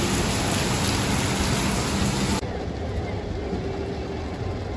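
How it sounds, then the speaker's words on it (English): Heavy tropical rain pours down in Kuala Lumpur during a thunderstorm, a loud dense roar that drops to a softer steady wash halfway through, with no voices. "it's thundering also chucking it and down. absolutely chucking it down."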